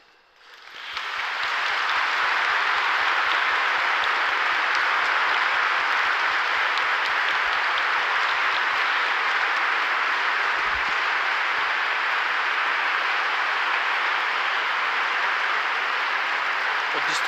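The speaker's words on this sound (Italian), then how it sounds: "È un applauso" Sustained audience applause after a talk, a dense, loud, even clapping that swells in within the first second and holds steady for over fifteen seconds.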